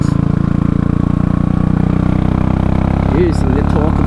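A Royal Enfield motorcycle fitted with a Race Dynamics Powertronic tuning unit runs in a loud, close, steady single-cylinder thump while rolling on the throttle on the road, with a brief voice near the end.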